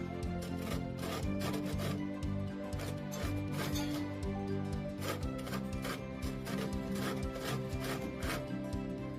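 Lemon zest grated on a box grater, quick repeated close rasping strokes in a steady rhythm, faint and without talk.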